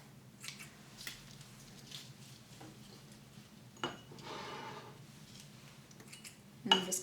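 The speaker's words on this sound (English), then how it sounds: "all I'm going to do is take and snip off" Scissors snip the dried ends off freshly dug wild onions: several sharp, separate cuts spaced irregularly, including a louder cluster near the end, close and clear over a quiet background with no talking.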